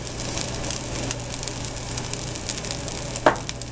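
Fried rice sizzles steadily in a pan as it is stirred, a constant close hiss with soft scraping and one sharp clink near the end.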